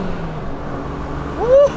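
A turbocharged RB30 six in a Nissan GQ Patrol rumbles low and steady nearby, with a short rising turbo whistle near the end.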